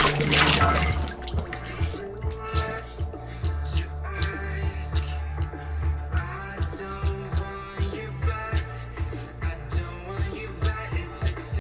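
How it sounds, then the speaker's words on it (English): A Tribit Stormbox Bluetooth speaker floating in a pool plays music, a steady beat with sharp rhythmic hits, slightly muffled by the water, without any voices. "Even if it's floating in a pool, you can actually listen to it in a reasonably enjoyable way."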